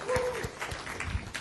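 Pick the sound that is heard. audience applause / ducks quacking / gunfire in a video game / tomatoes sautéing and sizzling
audience applause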